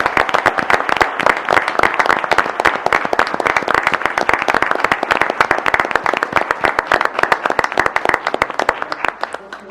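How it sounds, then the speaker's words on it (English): Loud, dense applause from a city council meeting audience, steady rapid clapping from many hands that runs the full length and tapers slightly at the end, with a faint murmur of voices underneath. "please join me in a round of applause"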